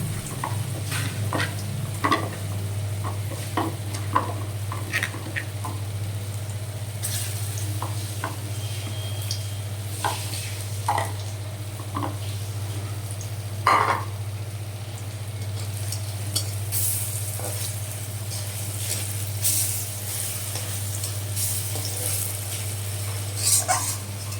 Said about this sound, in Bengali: দেখো আমার বড়াগুলো ভাজা হয়ে এসেছে প্রায়